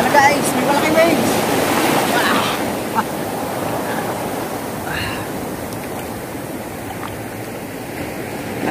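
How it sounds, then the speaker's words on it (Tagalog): Big ocean waves break and wash onto the shore at La Union, a steady broad roar of surf with louder crashes early on, while a voice speaks briefly over the surge. "Ayan na guys, may malaking waves!"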